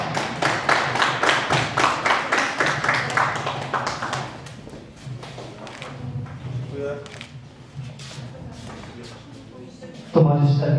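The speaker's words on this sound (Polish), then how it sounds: "Gorące brawa!" Rhythmic clapping from a school audience for the winner of a strength competition, brisk and fairly loud for several seconds, then fading into chatter and scattered knocks as people talk.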